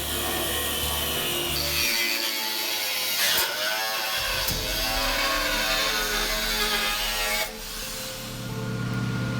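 Metal saw or cutoff tool slicing through part of a Toyota Tundra truck frame during a body mount chop, a loud continuous grinding rasp that shifts pitch and pauses briefly, with no speech.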